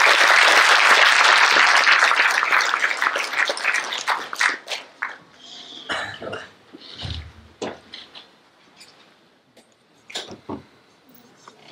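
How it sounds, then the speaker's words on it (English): An audience at a foundation day lecture applauds the chief guest. Loud, dense clapping fades over several seconds into scattered claps, footsteps and low murmuring. "A big round of applause for our Chief Guest."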